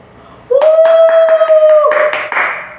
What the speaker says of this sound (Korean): 박수를 받잖아요